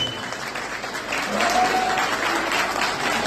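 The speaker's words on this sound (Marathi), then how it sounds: "लावणी सम्राट किरण कोरेसाठी जरा जोरदार टाळ्या झाल्या पाहिजे" A crowd at a Ganesh festival Lavani dance event claps loudly for the Lavani performer Kiran Kore, a thick, sustained wave of applause that swells midway and holds up to the end.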